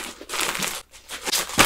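A big plastic bag crinkles and rustles in quick bursts as clothing is packed into it, close and fairly loud, with short pauses between handlings.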